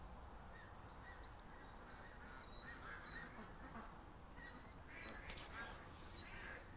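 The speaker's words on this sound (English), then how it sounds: "They ran the gauntlet of the Canada geese." Geese honk in scattered, distant calls over a steady outdoor hiss, several birds sounding off irregularly.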